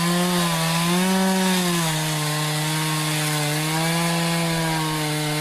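A chainsaw engine drones steadily at high revs, loud and near, with the pitch dipping slightly partway through. It plays alone with no voices, used as a spoiler warning.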